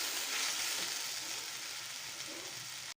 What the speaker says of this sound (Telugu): కూరని వేసి కొద్దిగా వేయించుకోవాలి.